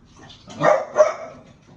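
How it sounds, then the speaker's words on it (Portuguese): Small dog barking indoors, two quick yips close by, moderately loud, with a soft background hiss and no voices. "Minha cachorrinha aqui."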